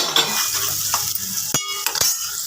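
Chicken liver curry with onion is stirred in a pan just after turmeric goes in, with a steady sizzle under scraping spoon strokes and a few sharper clinks near the end.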